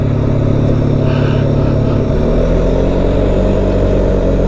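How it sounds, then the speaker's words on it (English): A Polaris Sportsman 570 Trail Edition single-cylinder ATV engine pulls hard under acceleration, a loud, close, steady droning rumble that shifts pitch partway through, with no talk over it. "I'm pushing it, but you feel that you're losing a little bit of power, but it's still accelerating"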